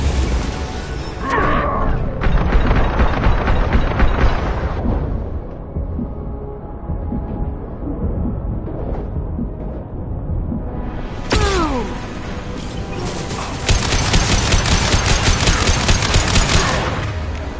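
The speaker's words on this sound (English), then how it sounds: "Taking heavy fire." Heavy gunfire in the video game Mass Effect 2: dense bursts of shots and booms in close, loud clusters at the start and again near the end, with a lower rumbling lull between, no talk.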